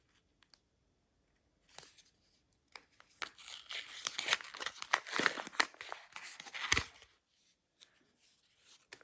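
Paper tears and crinkles close up as a taped paper surprise packet is pulled open, a burst of ripping and rustling that ends with a sharp snap.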